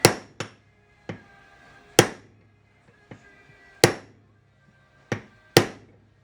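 Hammer blows on a kingpin bushing during a Datsun truck front-end rebuild, about eight sharp metallic strikes spaced irregularly, some in quick pairs, each ringing briefly in a quiet workshop with no talking.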